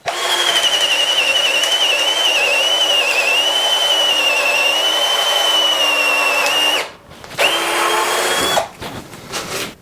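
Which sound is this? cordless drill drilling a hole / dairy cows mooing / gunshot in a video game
cordless drill drilling a hole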